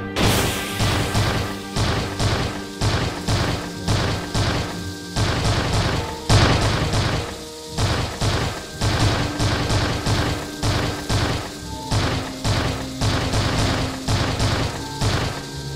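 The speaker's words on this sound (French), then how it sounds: "Grenade!" Grenade blast in a Minecraft film battle: a dense run of loud crashing booms and thuds, repeating in rapid bursts like heavy gunfire and explosions, close and sustained throughout.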